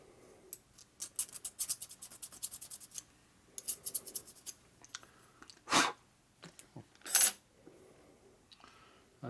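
A fingernail file is used as a ring file on a part during a 1983 Harley FLTC 80ci shovelhead engine rebuild, giving rapid close raspy strokes in short bursts, along with scattered clicks and two sharper scraping noises.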